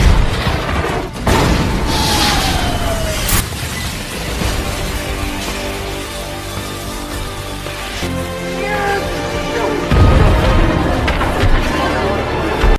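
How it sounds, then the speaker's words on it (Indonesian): Explosions and crashing impacts from a fire-lit fight scene in the 2001 action film The One, loud bursts and debris over a dense, continuous soundtrack with music, repeated booms near the start and again around ten seconds. "Terjadi pertarungan di antara percikan api hingga membuat tempat itu meledak dan saat Punch membuka portal untuk kembali"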